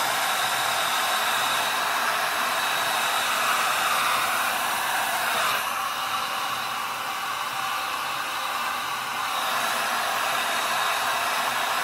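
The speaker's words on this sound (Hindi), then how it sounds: "तो इनको पहले हम लोग कर लेंगे ड्रायर, ताकि फिर जो है वो स्ट्रेट करने में ईजी हो जाए" A hair dryer blows on wet hair before straightening, giving a loud, steady, continuous rush of air that runs through the whole stretch with no speech.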